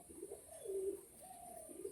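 Jiriya Madras pigeons coo close by, a few soft low rolling coos in quick succession, faint against a quiet background with a thin steady high hiss.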